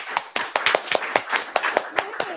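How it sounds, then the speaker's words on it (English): Applause from a small audience for a speaker at a product team talk: distinct, fairly sparse hand claps in an uneven rhythm, close and moderately loud, with a few voices murmuring underneath. "A round of applause for Andrea."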